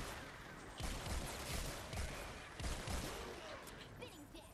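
Shotgun blasts in the video game Fortnite Save the World, two heavy booming shots with decaying tails over a dense, busy game background, fairly faint overall.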